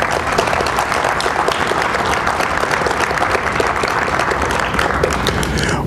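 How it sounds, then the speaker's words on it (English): An audience at a State of the City address gives sustained, dense applause, a loud, even roar of many hands clapping with no break. "That deserves some applause."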